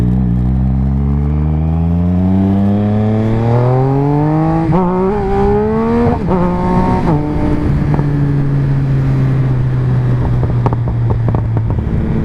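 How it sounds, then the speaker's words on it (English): Close, loud motorcycle exhaust with the baffle missing, revving up through rising gears with brief shift dips, then settling into a steady deep drone with wind noise. "If you notice the bike seems a little bit louder, that's because somewhere along the way I lost my baffle."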